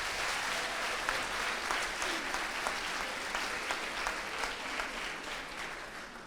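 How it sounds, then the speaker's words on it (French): An audience claps steadily and warmly for several seconds before a lecture, a dense, even wash of applause. "vous pouvez l'applaudir avant la conférence"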